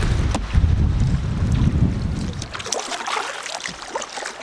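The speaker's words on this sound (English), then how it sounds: "This wind is right behind us. We can literally just chill here and steer, and it'll take us across the lake." Wind buffets the microphone while a boat sails downwind across a lake in Temagami, Ontario, a loud gusty rumble that eases after a few seconds into lighter splashing and rushing water.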